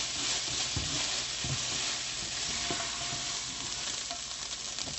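Ground meat browning in a pan gives off a steady loud sizzle, with several scraping stirs from a utensil breaking up the meat, heard up close and without talk.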